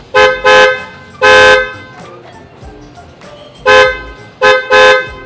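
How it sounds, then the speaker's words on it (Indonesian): A replacement bass horn on a Suzuki Jimny, a European-style tone, sounds in several loud, close honks: two quick toots, one longer blast, then a pause and three more short honks, with no talking. "lebih ngebass, dan ini tuh jadi kayak standarnya klaksonnya mobil-mobil Eropa"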